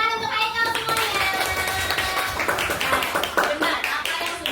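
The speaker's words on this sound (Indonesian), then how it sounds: "Tepuk tangan untuk Haikal semuanya." Classroom of students clapping for a classmate, a dense spread of hand claps filling the room for several seconds, with voices talking over the applause.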